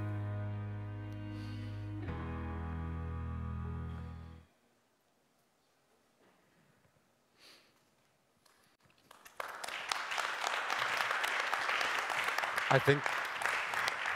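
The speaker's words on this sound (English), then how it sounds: "this really deserves a round of applause." A sustained tone fades out, a quiet pause follows with a short spoken phrase, then a conference audience breaks into dense, steady applause that continues to the end.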